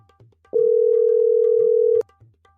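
A telephone dial tone: a single steady, clear tone held for about one and a half seconds, loud against a quiet room before and after it.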